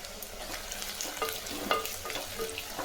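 Curry leaves and onions sizzle and crackle as they fry in a pan, a close, continuous hiss with small pops and occasional stirring scrapes.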